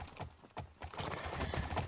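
A horse's hooves clip-clop in the online game Alicia Online, a quick scatter of soft, near hoofbeats over busy, noisy game sound with no talking.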